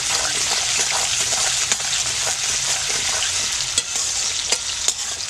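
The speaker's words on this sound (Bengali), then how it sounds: "প্রথমে আমি পেঁয়াজ কুচি দিয়ে দিচ্ছি পেঁয়াজটা একটু লাল লাল করে ভাজতে হবে" Chopped onions fry in a pan for a chicken and maan kochu curry, giving a steady close sizzle with occasional stirring scrapes and light clicks, no voices.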